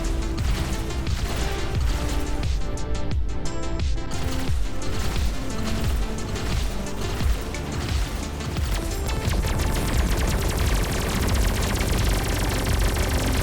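Gauss cannon fire in the space shooter Everspace 2, a dense, loud run of rapid repeated shots and impacts that keeps going the whole time over a busy backdrop of game effects, with no talking.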